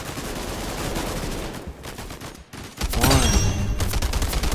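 Rapid gunfire from a strong, slow-firing gun in a video game crackles in dense bursts, dropping out briefly in the middle before a louder, heavier volley resumes.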